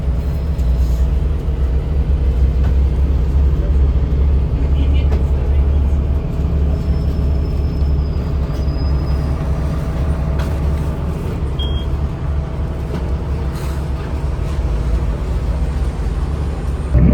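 The cabin of an Aeroexpress bus in a cold Far Eastern Russian city holds a steady low engine rumble and road drone throughout, with a faint air brake hiss partway through and quiet voices talking.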